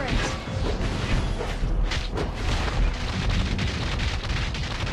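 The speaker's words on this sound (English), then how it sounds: "Our turret has been destroyed." A turret being destroyed in Mobile Legends: Bang Bang, a dense, sustained rumble of game effects with crashing, explosive bursts layered over loud continuous background noise.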